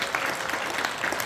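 A brief, dense burst of crowd applause fills a hall at a Korean legislator's public briefing and talk concert, with steady overlapping claps from a sizeable audience.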